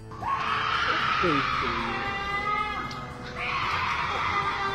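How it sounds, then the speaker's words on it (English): A piercing, wavering scream rises and falls in drawn-out strained cries, captured on CCTV footage, loud and close with a short break before a second cry. "Sounds like a screech that goes right through your ears and sticks into your heart"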